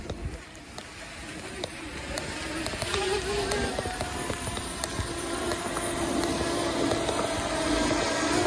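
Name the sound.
drone buzzing while descending in sport mode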